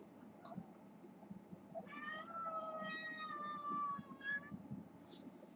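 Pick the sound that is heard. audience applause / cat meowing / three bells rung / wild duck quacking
cat meowing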